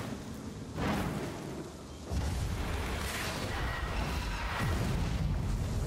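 Muffled booms from an explosion in Warhammer: Vermintide 2, a thud near the start then a sustained roaring rumble that stays loud to the end.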